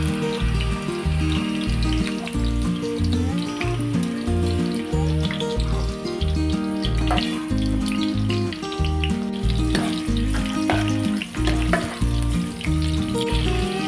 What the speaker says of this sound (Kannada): ಈರುಳ್ಳಿನ ಹಾಕ್ತಾ ಇದ್ದೀನಿ.